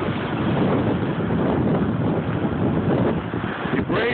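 Waves on a windy lakefront wash onto the shore in a continuous loud roar, heavily mixed with wind buffeting the microphone, with no clear pauses between surges.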